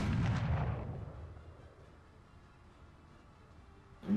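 One loud, booming gunshot from the video game Space Engineers cracks out and rolls away into a long fading echo, followed by near silence and the start of another burst.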